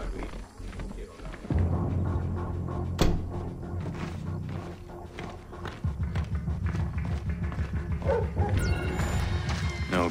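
A dog barks in Splinter Cell: Blacklist on a private estate, repeated barks and yips over a loud game soundscape of music and mechanical noise, with a sharp impact partway through.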